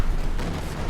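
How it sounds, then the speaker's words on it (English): Rocket artillery barrage in the Company of Heroes 2 video game, a dense continuous rumbling roar of explosions filling the whole short moment with no pauses. "Rocket artillery wipes the Grenadiers."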